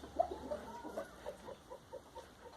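Chickens cluck softly in a small flock, a string of faint, short, irregular clucks heard close but quietly over a low background hum.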